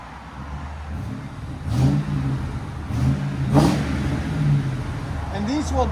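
A 2008 Ford Crown Vic Police Interceptor's 4.6L V8 through CARVEN TR-Series mufflers gives two gentle, brief revs over a low rumbling idle, moderately loud and nearby, with some talking in the background.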